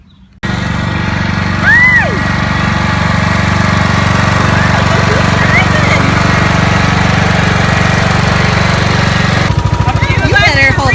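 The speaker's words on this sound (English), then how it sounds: "Are you gonna ride the tractor?" A tractor engine runs steadily and close by throughout, a continuous low mechanical drone, with a child and an adult speaking briefly over it.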